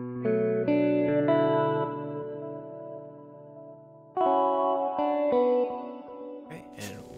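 Guitar layered with a sine wave synth and Rhodes electric piano in an Ableton 11 track, chorus-soaked sustained chords in two phrases, the second entering loudly after a decay, ending with a brief noisy swell.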